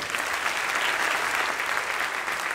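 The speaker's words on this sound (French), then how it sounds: "est-ce qu'on peut applaudir cette anecdote incroyable quand même" A studio audience at a comedy talk show applauds in a dense, even wash of clapping that holds steady for a couple of seconds before tapering off at the end.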